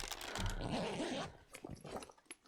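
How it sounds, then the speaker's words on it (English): Dog growling in the survival video game The Long Dark, a low rumbling snarl with a brief whimper, fairly faint, followed by scattered soft rustles and clicks. "God darn dog."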